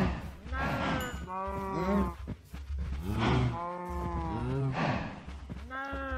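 Several cows in the video game Minecraft moo loudly and repeatedly, with low, drawn-out calls overlapping one another in a steady series across the whole stretch.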